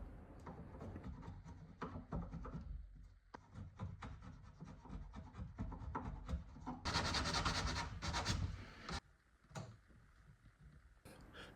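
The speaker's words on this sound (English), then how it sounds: "I start my planing, chiseling and sanding to get to the final shape of the replaced trimming." Replaced wooden trim on a vintage writing desk being planed, chiseled and sanded by hand: quiet, close rasping and rubbing strokes in an uneven rhythm, with a brief harsher scraping burst near the end and no talk.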